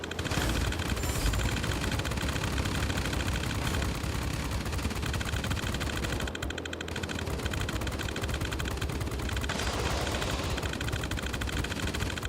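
Defensive guns on a B-32 bomber in a video game, with continuous loud machine-gun fire layered over droning engine noise. It stays dense and unbroken except for a brief dip around the middle.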